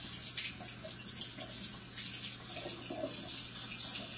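A kitchen tap runs steadily into a measuring cup, warming water for yeast bread, a soft continuous splashing stream close by with no voices.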